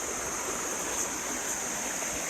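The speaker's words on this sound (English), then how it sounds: "Nice little river." A small river stream in a Costa Rica jungle forest flows in a steady, continuous rush of water at even loudness, close by and with no voices.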